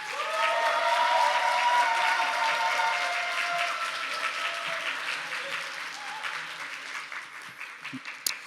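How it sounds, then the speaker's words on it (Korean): An audience welcoming a professor to the podium at a speech event claps steadily. The loud, dense applause starts at full strength, then slowly thins and fades over several seconds. "큰 박수로 모시겠습니다."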